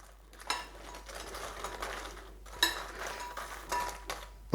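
Thai-style chicken wings being tossed in sweet and sour sauce in a bowl, a run of close clinks and wet scraping sounds of a utensil against the bowl in uneven bursts, with no talking.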